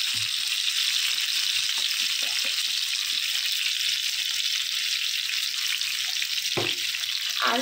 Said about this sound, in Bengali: এখন পটলগুলো ভেজে নেব